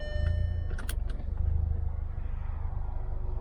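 A 1.8T car engine idles very low just after a hard start, giving a steady deep rumbling throb with a few faint clicks and rattles above it, no talking.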